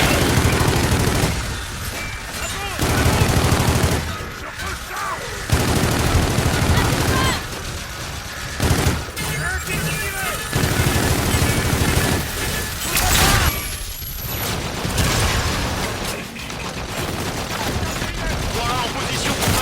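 Sustained bursts of gunfire from the video game Call of Duty: Infinite Warfare, loud and dense with brief gaps, continuing across the whole stretch.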